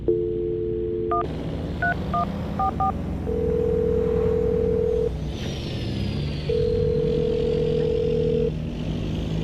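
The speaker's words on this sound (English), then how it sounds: "dial the phone number right now, get her on the phone" Touch-tone keypad beeps as a telephone number is dialed on a morning radio show, followed by two long steady phone tones over a low background rumble.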